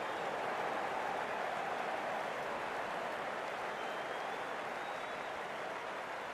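Steady crowd applause and cheering at an amateur cricket match between the Austin Aliens and Dallas Classic, a dense continuous wash of clapping holding level throughout with no talk over it.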